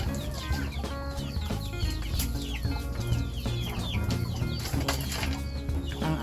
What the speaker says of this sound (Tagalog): So yung mga native na manok na yan ay meron ng 5 months yan.